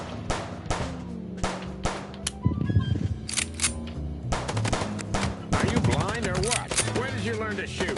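Gunshots in the video game Chicken Police, a string of sharp close shots in quick irregular bursts, with voices talking between and over them.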